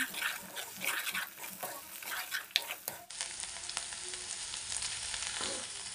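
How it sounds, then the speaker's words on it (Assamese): Spinach, potato and eggs fry in a pan with a loud, steady sizzle, heard close up. Scraping stirs and clinks come first, then the hiss settles into a constant crackle and no one speaks. "ডিম দুটাত দি এয়া ভালকৈ ফ্ৰাই কৰি ল'ম।"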